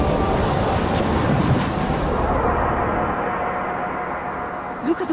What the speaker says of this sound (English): Look at the waves, Mina.